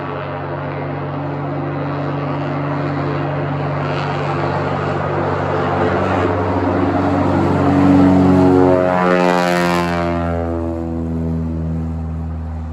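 A propeller airplane takes off nearby, its engine drone rising and swelling to a loud peak, then a pitch drop as it passes and pulls away.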